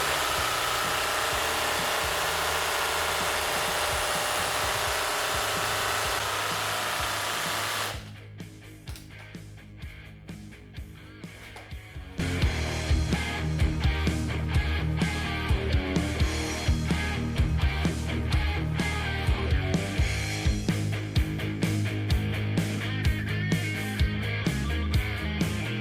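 An old paint can shaker machine rattles a spray paint can with a loud, dense mechanical vibration that cuts out briefly, then resumes as a steady, rhythmic clattering shake.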